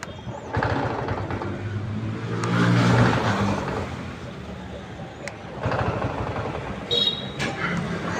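A TVS XL100 BS6 moped with a starting fault is cranked by its self-starter in repeated bursts of whirring and grinding that never catch, close and fairly loud, with a voice in between.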